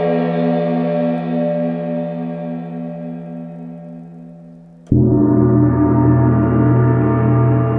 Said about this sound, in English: Here's a softer mallet. Sounded more like a felt mallet to me.